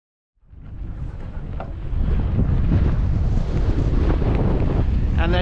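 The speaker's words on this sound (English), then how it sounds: "I do apologize for the hurricane winds here." Strong gusty wind roars across the microphone outdoors beside a railway grade, rising from silence to a heavy, steady rumble that buffets close and loud throughout, with no clear voice over it.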